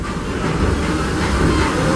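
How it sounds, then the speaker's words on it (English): A Disneyland Railroad train runs into New Orleans Square Station, its wheels clacking and rumbling loudly and steadily over the rails from close by. "please remain seated until the train comes to a complete stop"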